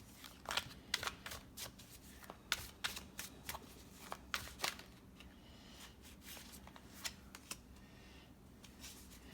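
Alice in Wonderland themed tarot cards being shuffled by hand, a quick run of soft riffling snaps and flutters in uneven bursts, fairly close and quiet with no talk.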